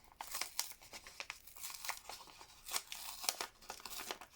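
A little brown paper envelope is handled and opened with crisp crinkling and tearing rustles in uneven bursts, close and fairly quiet, with no voices.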